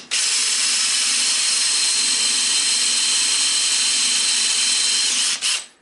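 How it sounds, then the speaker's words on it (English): A power drill fitted with a Forstner bit bores a recess into a piece of scrap wood, a steady close whirring grind that runs unbroken for about five seconds before winding down. "I'm just going to take my Forstner bit, line it up with my mark"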